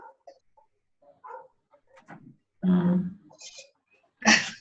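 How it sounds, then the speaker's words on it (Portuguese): A small dog barks in a few short, sharp bursts between quieter sounds, with two louder yaps standing out near the middle and end. "Esse cachorrinho que está latindo é da onde aí?"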